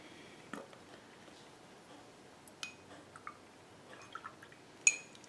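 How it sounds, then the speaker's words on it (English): Water dripped and added to watercolor paints, with faint scattered drips, small clinks and light splashes against a quiet background. "Let's add a little bit more water"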